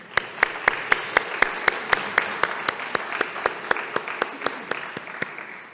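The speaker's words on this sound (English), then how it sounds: "let's give a round of applause to our last speakers" Sparse applause from a small conference audience, a few dozen evenly spaced sharp claps standing out over a soft bed of clapping, steady and then thinning toward the end, with no talk over it.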